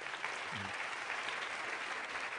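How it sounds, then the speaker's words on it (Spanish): A church congregation at a morning service gives a strong round of applause: thick, continuous clapping from many hands at a steady, moderate level for the full stretch, with a brief voice sounding faintly beneath. "Dele otro fuerte aplauso al Señor."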